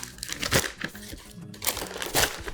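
Plastic vacuum sealer bag handled and pulled down, with close, continuous crinkling and rustling that swells and fades in irregular bursts.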